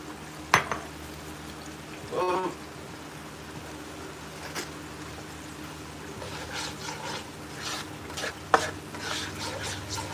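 Half a white onion goes into a pan and frying starts: a low sizzle runs throughout under scattered scrapes and stirring clatter, with a few sharper clanks, moderately close and with no talk.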